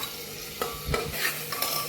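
Spice masala sizzling in a pressure cooker after a splash of water, a continuous hiss with a few spatula stirs and scrapes, no talking.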